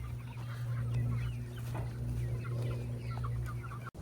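Several chickens cluck softly nearby over a steady low hum, with scattered faint bird calls throughout.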